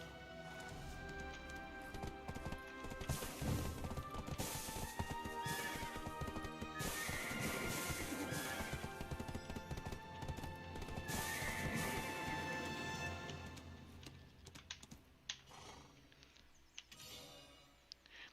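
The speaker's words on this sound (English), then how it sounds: "We're here to see some horses." Horses in the video game Black Desert Online neigh and whinny repeatedly over hoof clip-clops and a dense, busy game soundscape, loud and close throughout.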